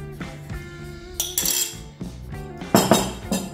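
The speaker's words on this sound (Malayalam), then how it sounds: "1/2 കിലോ മട്ടൺ ഒരു ബൗളിലേക്ക് ഇടുക." Half a kilo of raw mutton goes into a bowl for Andhra mutton curry, with a run of close, loud clinks and clatters of metal utensils and bowl alongside dull knocks.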